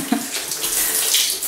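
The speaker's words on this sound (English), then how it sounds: "If you want to keep the bath clean, then you refill up the tub." Water from a tap pours into a bathtub, giving a continuous splashing rush that stays close and steady throughout the short stretch, with no one talking.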